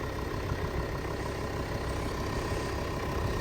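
A car engine idles steadily at close range, a continuous low rumble with no speech, heard while headlight low-beam bulbs are being replaced.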